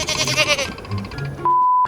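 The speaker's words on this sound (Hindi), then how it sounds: "मेरा बकरा" A male goat at a livestock market bleating in short, loud cries close by, amid nearby voices and crowd bustle, ending with a steady electronic beep tone.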